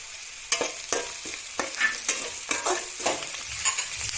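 Green chilies tipped into softened, translucent onions frying in a pan for gobi Manchurian: a steady sizzle broken by a series of sharp scraping stirs at a roughly regular pace, close and fairly loud, with no talking.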